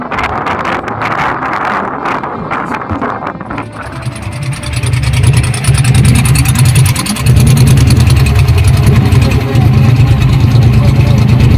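A ship's main engine runs with a steady low drone, growing louder and fuller partway through, with wind buffeting the microphone and people talking over it early on.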